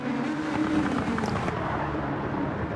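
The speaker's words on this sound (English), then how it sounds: "Wadru pulling away slowly from the rest. In that 97 Supra." A 1997 Toyota Supra race car in Zent livery in Gran Turismo 7 at Trial Mountain, its engine a steady, droning roar held at a near-constant level throughout.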